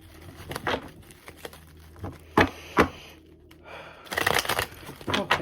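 A tarot deck is shuffled by hand, giving a few separate crisp riffling and tapping bursts with a quieter gap in between and a denser flurry near the end, close up, with no speech.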